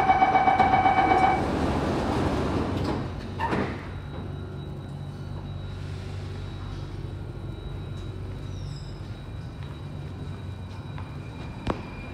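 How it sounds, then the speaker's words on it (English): A Singapore Circle Line metro train's chime sounds, then doors slide shut with a thud. Afterward the carriage hums steadily and a faint beep follows. "Doors are closing."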